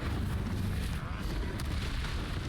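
The Incendio fire spell in Hogwarts Legacy bursts into a dense, roaring whoosh of flame amid combat noise, loud and sustained, with a voice talking over it.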